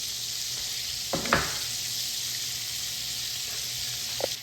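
Minced garlic sizzles softly in a frying pan for shrimp scampi, a steady quiet hiss broken by a few sharp utensil clinks and scrapes as it is stirred.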